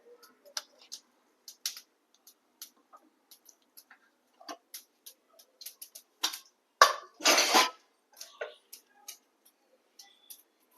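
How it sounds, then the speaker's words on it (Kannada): Half a spoon of mustard seeds crackling in hot oil for tempering, scattered sharp pops and ticks at irregular intervals, with a denser burst of spluttering near the middle, close and fairly faint. "ಈಗ ಸಾಸಿವೆ ಸಿಡಿತಾ ಇದೆ."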